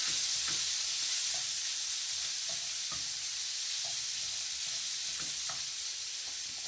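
Liver sizzles steadily in butter in a pan for a Turkish liver stew, a constant close hiss broken by faint scraping stir clicks, with no talking.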